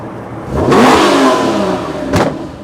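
A TBR supercar with a front-mounted 4.5-litre engine revs hard at a supercar show, one long rising and falling rev followed by a shorter sharp blip, loud and close with no talk.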